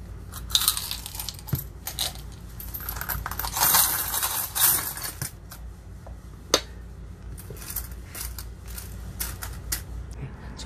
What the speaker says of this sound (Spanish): Por aquí tengo las monedas, así que vamos a comenzar a contarlas.